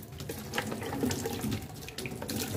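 Water runs and splashes steadily as it is poured to rinse off a homemade cleaning mixture, a close, continuous gush like a tap filling a sink, with no talking.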